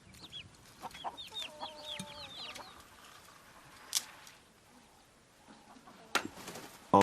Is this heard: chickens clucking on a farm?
yes